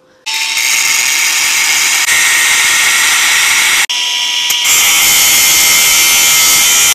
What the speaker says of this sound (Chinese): 我得给它再打磨打磨，然后把这个螺丝呢切掉，要这么长太长了没用。